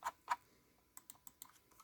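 Scroll wheel of a Kone Pure Ultra computer mouse being turned, giving a quiet run of light, evenly spaced ticks after two louder click-like taps at the start, close up with no talking.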